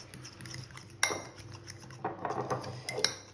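A fork clinks and scrapes against a bowl while mixing egg yolk into thick kaymak cream, a few quick metallic taps and rattles, close and quiet, with no speech.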